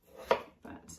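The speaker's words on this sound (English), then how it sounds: "So we're going for the easy option of chopping them first." A knife chops through potatoes on a board with two or three close, sharp cuts, the first one the loudest, in a quiet kitchen.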